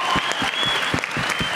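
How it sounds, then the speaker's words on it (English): A convention crowd at a Walking Dead Grimes family reunion panel at Fandemic Dead 2022 breaks into loud applause, a thick, close burst of many clapping hands that carries on without a break. "Round of applause for yourselves"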